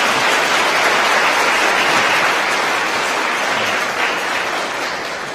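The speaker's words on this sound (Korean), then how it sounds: "우리 박수 한번 보내주죠." Congregation in a church breaks into sustained applause during a Sunday worship service, a dense, even wash of clapping from many hands that holds steady for several seconds and tapers slightly at the end, with no talking over it.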